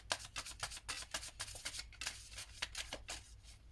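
Tarot cards shuffled in quick, crisp riffling bursts, a dense run of soft papery flicks and slaps close to the listener with no talking.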